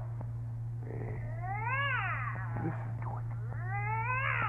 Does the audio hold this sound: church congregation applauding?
no